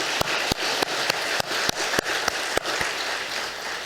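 Scattered, sparse clapping from a church congregation during a Sunday service, a handful of sharp, separate claps standing out over a soft room hiss, no talk.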